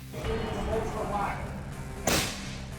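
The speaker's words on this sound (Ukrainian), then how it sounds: "Снайпер робить постріл через монітор, влучаючи підозрювану всередину голови" A single sharp, loud sniper rifle shot fired through a computer monitor cracks through a steady background hum with faint indistinct sounds.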